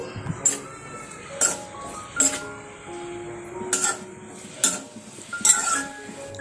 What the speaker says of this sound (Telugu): ఇలా మధ్య మధ్యలో కలుపుకుంటూ ఆనియన్స్ బాగా ఫ్రై అయ్యేంత వరకు ఫ్రై చేసుకోవాలి